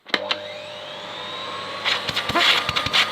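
A 1997 Miele S2511 vacuum cleaner runs on its minimum setting, a steady, fairly quiet motor whine and airflow hum heard up close, with some handling knocks and bumps near the end.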